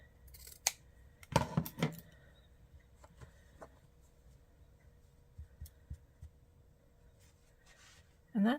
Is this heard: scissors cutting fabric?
yes